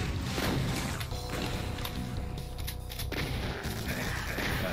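Gunfire from a chaingunner enemy in the Doom mod Eviternity, with repeated shots over a dense, busy game soundscape, loud and sustained throughout.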